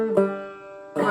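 A clawhammer banjo measure played with brush thumbs gives two strummed attacks with ringing strings between them, close and alone.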